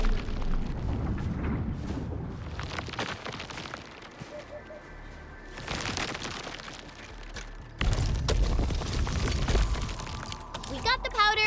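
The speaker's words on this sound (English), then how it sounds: "I say it's time to shred some Originium ore to powder." Machine in Arknights: Endfield shredding Originium ore to powder, giving off loud crunching bursts, shattering cracks and deep booms in uneven waves.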